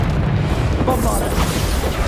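Bombarda blasting spell exploding in the Hogwarts Legacy video game, a deep booming rumble mixed with a shouted voice and sustained game noise, loud and continuous.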